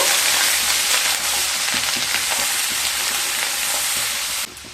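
Tomato paste, Kashmiri chili powder, salt and spices frying in a pan for mustard pabda fish curry while being stirred: a loud, steady sizzle with soft scraping, dropping slightly near the end.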